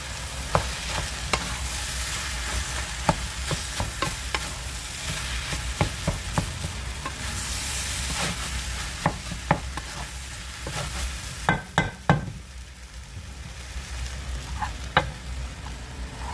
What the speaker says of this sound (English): Then my rice that was already cooked, I'll just add that gradually to the pot.